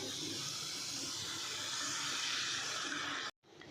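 Hot water poured into a simmering chicken curry in a home kitchen makes a continuous close rushing, splashing flow that cuts off abruptly near the end.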